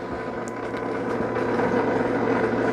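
A Dreame L10S Ultra robot vacuum's base station spins the mop pads fast, making a steady, loud mechanical whir with a low hum underneath that holds constant throughout.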